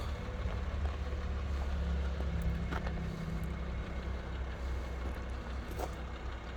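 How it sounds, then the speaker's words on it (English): A 2007 BMW 325i E92 coupe with a naturally aspirated 3.0 six-cylinder petrol engine and automatic gearbox idles smoothly, a low, steady and very quiet hum with no revving. "The engine is nearly silent on it."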